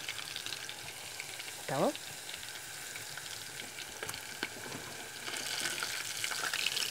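Cará, a river fish caught that day, fries in a pan on a stove with a steady crackling sizzle, close but quiet, with a brief word spoken and a short clatter near the start.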